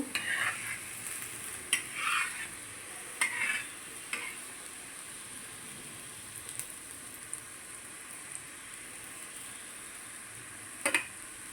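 Rice flour appam fry in oil and get turned: a faint, steady sizzle with a few soft scraping and stirring clicks near the start and one more near the end.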